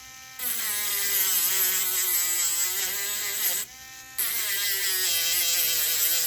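Steady high-pitched whining buzz of a small rotary grinder roughing up the surface of new Molicel battery cells before soldering, running continuously with one brief pause before resuming, close and fairly loud.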